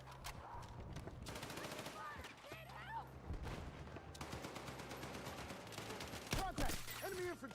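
Video game gunfire rattles in repeated bursts, faint and mixed under a player's talk and game background sounds.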